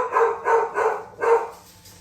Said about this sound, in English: The dogs think there's someone else here.